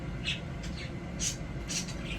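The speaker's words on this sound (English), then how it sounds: "You hear my birds chirping?" Pet birds indoors chirping in short bright bursts, several separate calls over about two seconds above a low room hum, moderately close, with no talk.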